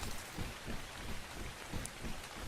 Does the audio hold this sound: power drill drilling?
no